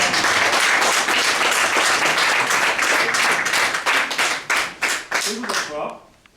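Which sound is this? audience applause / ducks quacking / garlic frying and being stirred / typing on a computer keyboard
audience applause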